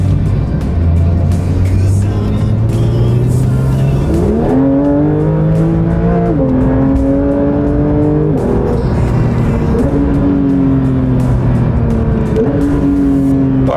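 A Porsche 911 GT3 race-bred road car accelerates hard through the gears, its engine note climbing steadily with distinct upshifts, loud and close from inside the cabin with no talk.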